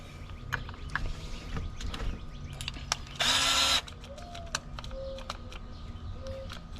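A short burst of a power drill whirring, close and loud for about half a second, amid scattered clicks and knocks.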